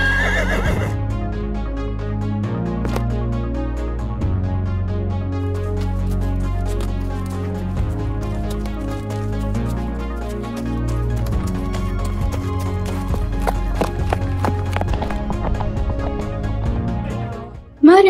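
A horse in the Star Stable online horse-riding game neighs and whinnies, with hooves clip-clopping over a steady, loud background throughout, and no one speaking.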